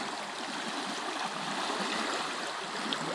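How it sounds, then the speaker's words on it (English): Swollen creek running five to six feet deep, its rushing water a steady, close, continuous roar with gurgling texture and no voices. "I love that sound, though, the rushing water, eh?"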